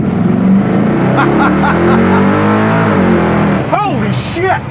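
A classic Chevy Nova's engine and exhaust rumble loudly and build as the car accelerates, with a steady low drone rising in pitch, then brief voices break in near the end.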